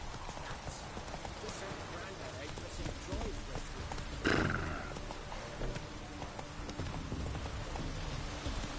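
Roach the horse runs in The Witcher 3 video game, its clip-clop hooves steady beneath game ambience, with a brief louder burst partway through and a voice speaking at times.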